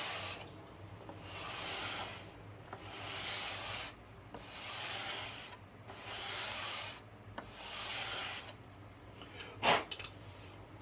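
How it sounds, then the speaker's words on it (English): Sandpaper rubbed back and forth along the bottom edge of a scratch-built N scale model structure, six or seven steady, even strokes with short pauses between them, close and fairly quiet, with no talking. "take my sandpaper, take the bottom edge."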